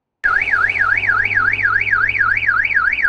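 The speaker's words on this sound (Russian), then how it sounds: "Сигнализация Toyota Prius срабатывала несколько раз" A Toyota Prius car alarm blares loud and close, a steady rising-and-falling electronic siren wail that cycles evenly without pause for the whole stretch.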